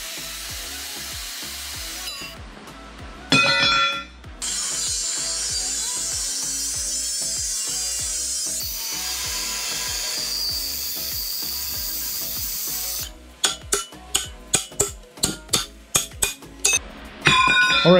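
An angle grinder cuts through a steel radius arm mount bracket welded on the axle tube of a Dana 60 Jeep axle, a loud sustained whine broken by short pauses and a run of rapid rhythmic bursts toward the end.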